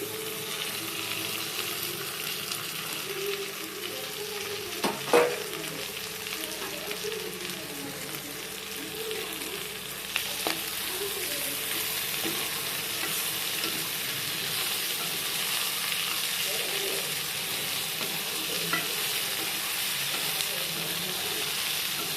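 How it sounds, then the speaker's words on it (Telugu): Brinjal stir-frying in a pan in a village-style fry, a long steady sizzle with occasional spatula scrapes and knocks, moderately close. "మనం సపరేట్ చేసి పెట్టుకున్న వంకాయని ఇందులో మళ్ళీ వేసేయాలి."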